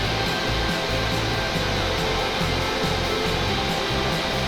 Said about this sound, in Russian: Просто пылесосом на обратку.